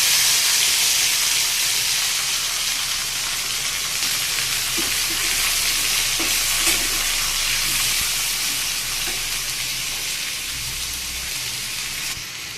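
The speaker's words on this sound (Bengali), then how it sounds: "এটাকে এখন এই তেলের ভিতরে দিয়ে দেবো।" Vegetables, including malabar spinach stems and potato, fry in hot oil, giving a steady, loud, close sizzle with faint stirring clicks throughout and no talking.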